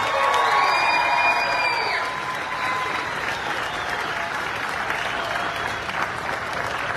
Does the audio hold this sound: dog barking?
no